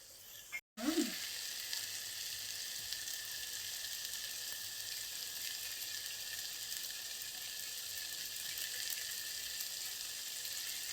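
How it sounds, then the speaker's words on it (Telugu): Water goes into a simmering mixed vegetable curry, followed by a steady, close hiss of sizzling that holds evenly for about ten seconds after a brief cut at the start. "ఇందులో ఒక గ్లాస్ వాటర్ వేస్తాను"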